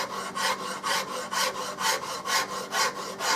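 A fine Nicholson pattern maker's rasp files wood in about eight even back-and-forth strokes, close and rhythmic, with no talk.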